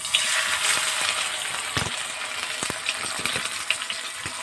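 Small mola fish being lowered into hot oil in a pan, giving a bright steady sizzle and hiss with scattered crackles and a few sharp pops, close by and with no talking.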